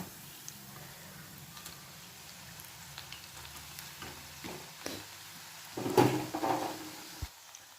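Onion pakoda deep frying in a small kadai gives a faint, steady crackle with scattered taps, swelling into a louder bubbling burst near the end.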